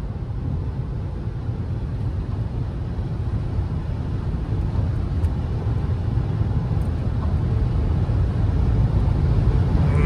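A 2024 Tata Safari Pure + S Dark SUV driving fast on the road, heard as a steady loud rumble of engine, tyre and wind noise, continuous and unbroken.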